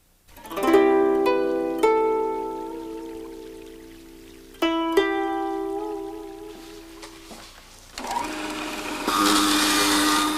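A juicer grinds a hard, woody old carrot in a home kitchen, a loud whirring motor whine that rises and dips in pitch as the carrot is pushed through, with sharp jumps where new pieces hit the blade and no talk.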